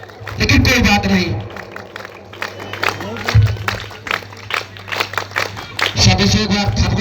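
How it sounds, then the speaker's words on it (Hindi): A crowd at a village kabaddi tournament final claps and cheers throughout, loud and continuous, with an announcer talking over it. "और लगातार ताली बजाते रहे, मात्र शक्ति आप भी बजाएं"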